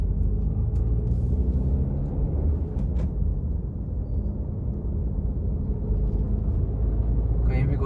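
A car pulls away in second gear after a downshift, its engine holding a steady low rumble throughout with a faint clunk midway, while someone talks over it.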